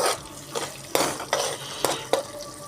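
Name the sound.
stirring curry with curry leaves in a pot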